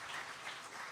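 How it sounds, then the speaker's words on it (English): Brief, faint round of applause at a celebration-of-life gathering, soft scattered clapping heard from a distance. "Give him a round of applause."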